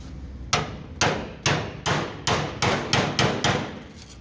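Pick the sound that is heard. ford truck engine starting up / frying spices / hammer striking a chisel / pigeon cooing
hammer striking a chisel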